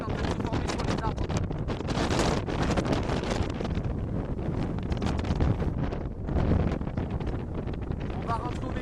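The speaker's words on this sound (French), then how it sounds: "Les rafales de vent frôlent les 140 km/h par moment." Strong wind gusts of up to 140 km/h buffet the microphone on a freezing November day in Languedoc, with frost forming on trees; a loud, continuous roaring rush surges and dips with each gust, close and unbroken throughout.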